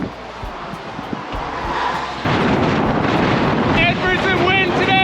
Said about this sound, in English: We woke up to some windy conditions